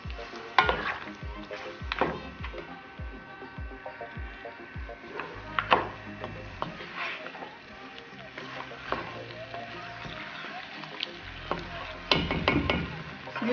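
Yogurt being stirred into mutton masala karahi in a hot pan, with a steady low sizzle under repeated wooden spoon scrapes and knocks against the pot, close by.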